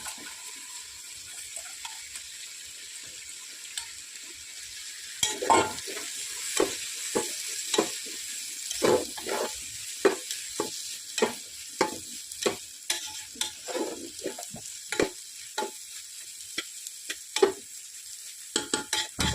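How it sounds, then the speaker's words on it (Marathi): Soaked, washed rice is sautéed and stirred in a pan, with a quiet start followed by a busy run of close, rhythmic scraping and rustling strokes over a soft sizzle, with no talking. "हे चांगले तांदूळ परतून घ्यायचे म्हणजे फार मोकळं आणि छान होतं"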